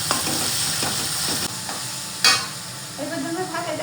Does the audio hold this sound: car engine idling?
no